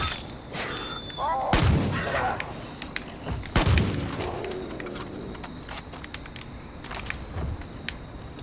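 Shotgun blasts in Far Cry 5 boom out twice with a few seconds between them, each followed by a rolling tail, over gameplay ambience scattered with smaller clicks and bangs.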